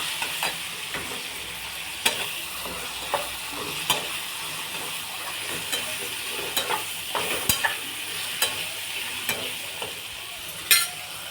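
Whole spices sizzle steadily in a hot pan during veg pulao preparation, with scattered sharp scraping knocks of a spoon stirring them throughout; close and moderately loud, with no voices.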